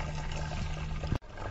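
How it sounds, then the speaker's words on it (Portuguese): A kitchen tap runs water into a container, a steady hissing pour with a low hum that cuts off abruptly near the end, quiet and close. "Vou até ligar aqui a torneira e colocar mais um pouco"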